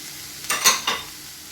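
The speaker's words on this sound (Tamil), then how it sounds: "இது எல்லாத்தையும் நல்லா மிக்ஸ் பண்ணி விட்டுக்கோங்க." A spoon stirs a vegetable bonda filling of boiled potato, carrot and beetroot in a pan, giving three quick scraping, sizzling strokes close up against a quiet background.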